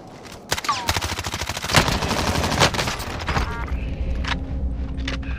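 Rapid hip-fired gunfire in the video game Warzone, a loud burst of dense automatic shots that starts with a sharp crack, then trails into scattered bangs and metallic mechanisms, with no speech.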